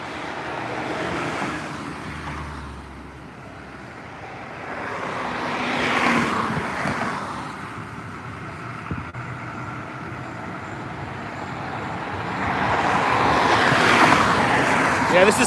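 Freeway traffic on Interstate 45 rushing past in broad swelling waves, vehicles surging close then fading, with continuous road roar throughout.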